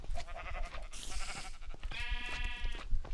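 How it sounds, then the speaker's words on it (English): Sheep bleat in the Minecraft video game, two or three wavering bleats close by over a low game background, with no talk. "I got sheep in stereo."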